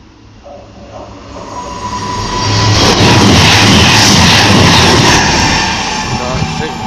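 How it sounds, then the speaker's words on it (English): A Virgin Trains Super Voyager rumbles past at close range near Crewe, its roar swelling to a peak mid-pass before slowly easing off, with a steady broadband wash of engine and wheel noise. "Passing through for the Virgin Trains Escort Super Voyager."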